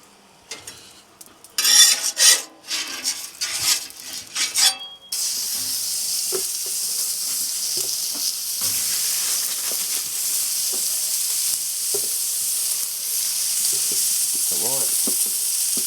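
Burger patties drop into hot oil on a pitmaster's cook: scattered clatter and spatter first, then a steady loud sizzle and fry for the rest, with occasional utensil clinks and faint voices.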